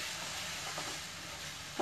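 Dal being stirred into roasted besan, a soft steady scraping and low sizzle with a louder scrape near the end, no talking.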